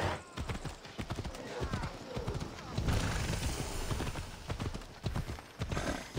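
Horse galloping in the Assassin's Creed Odyssey video game, rapid steady hoofbeats close and loud with a brief whinny, under game sounds and a voice talking over it.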